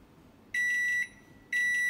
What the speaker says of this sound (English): by the time that goes off, it will just have a little beep like this.